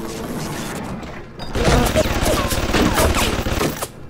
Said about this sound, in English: There's a turret.